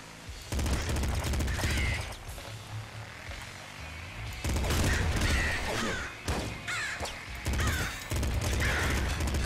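A crow in a video game caws several times in bursts, loud and close, amid crashing, gunfire-like game effects that come and go.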